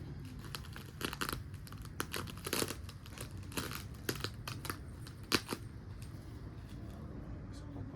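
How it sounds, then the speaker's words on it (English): Plastic packaging crinkles and tears in irregular bursts as a bicycle frame is unwrapped outdoors on grass, with scattered rustling and a sharp crackle near the end. "Let's set the tripod down and then unwrap this thing and see how it looks."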